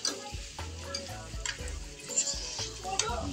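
Tosino, cured pork, sizzles in a frying pan while a utensil stirs and scrapes it in a series of sharp, irregular clatters over a continuous hiss, with no one speaking.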